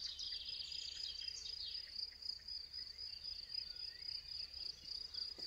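Steady, high insect trill of crickets fills an outdoor scene without pause, with faint, scattered bird chirps barely rising above it.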